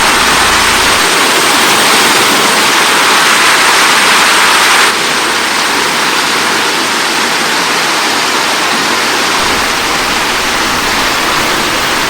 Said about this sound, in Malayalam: ഈ വെള്ളം ഇത്രയും ഫോഴ്സിൽ ഇവിടെ നിന്നാണ് ഒഴുകി ഇങ്ങോട്ടേക്ക് വരുന്നത്